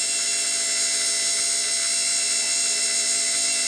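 A made-in-USA 90 V DC gear head motor from old equipment running steadily, a constant high whine with a layered mechanical hum, close and loud, with no voices.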